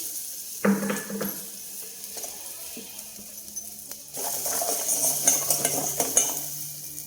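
Coconut pieces fry in a kadai. A soft sizzle runs under a few clinks and scrapes at first, then swells into a louder, brighter crackle for the last few seconds.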